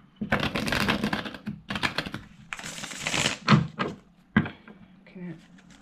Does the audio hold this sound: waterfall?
no